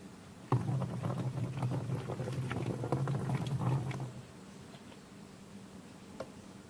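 Water is poured into a container to start a homemade eco-friendly farming oil mixture with canola oil, a steady splashing gush for about three and a half seconds that then stops, with faint handling noise after.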